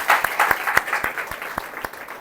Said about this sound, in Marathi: टाळ्या वाजवून देवाला धन्यवाद आहे.